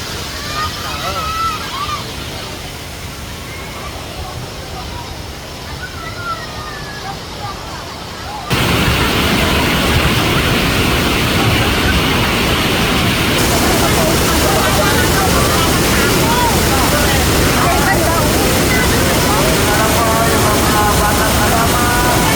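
Loud, steady rushing roar of Taytay Falls crashing water, surging up abruptly and staying dense and unbroken, with voices faint in the background.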